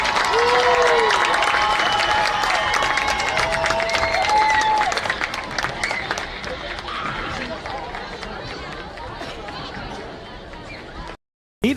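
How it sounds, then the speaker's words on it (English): A crowd at a middle school football game claps and cheers for the homecoming king and queen in a sustained burst of applause, with voices and chatter mixed in, fading out near the end. "Let's give them a big round of applause."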